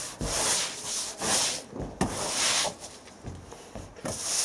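A brush scrubs wooden decking being cleaned with Budweiser beer, making rhythmic, close, rasping strokes with brief pauses between passes.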